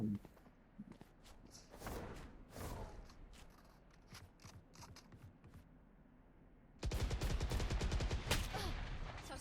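Gunfire in the mobile shooter Valorant Mobile: scattered shots and short bursts, some distant and some near, with footsteps and mechanical clicks, then a dense close volley of rapid fire near the end.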